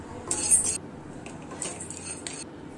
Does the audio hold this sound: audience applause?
no